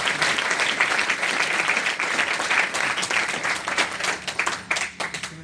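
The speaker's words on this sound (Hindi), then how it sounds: "जिस प्रकार आप ताली बजा रहे हैं" Audience at a Sanskrit university convocation ceremony in Uttarakhand claps loudly and continuously, a dense crackle of many hands that holds steady for the whole stretch.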